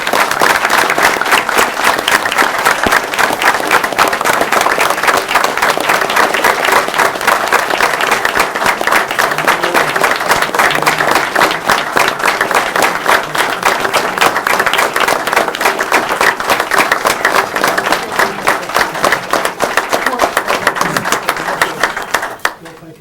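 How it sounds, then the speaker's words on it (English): A large audience claps steadily and loudly after a police chief's acceptance speech, dense sustained applause with a crowd murmur underneath, fading slightly at the end. "One more round of applause."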